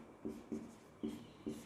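Chalk or marker strokes on a classroom board during a lecture on teaching methods, four short scratchy bursts in an uneven rhythm, close and fairly quiet, with no talking.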